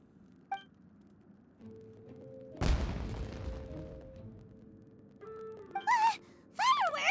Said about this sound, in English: The fireworks were enough to distract them.